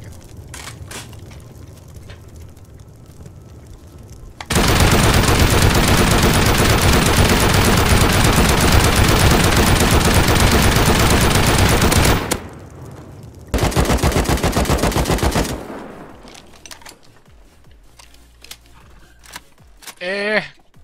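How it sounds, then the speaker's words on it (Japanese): A shotgun turret in the survival game Rust fires in a long, dense barrage of loud, rapid blasts, pauses briefly, then bursts again before fading into quieter game noise. "このショットガンタレット全然ダメじゃないけど"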